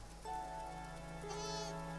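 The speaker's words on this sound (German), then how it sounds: "Da sind sogar Schafe." Sheep bleat in the video game Windborne, a couple of drawn-out, wavering bleats close by over a steady, rain-like ambient backdrop.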